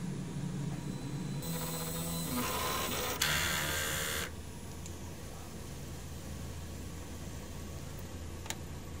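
An inkjet printer's head heat-cleaning cycle whirs and hums steadily, with a louder motor burst for a few seconds and a sharp click partway through, then settles to a low drone.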